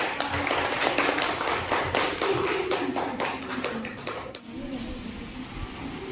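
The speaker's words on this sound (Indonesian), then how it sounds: "Beri tepuk tangan." A class claps after a group presentation, sharp rhythmic hand claps filling the room for about four seconds, then fading into softer scattered taps and room noise.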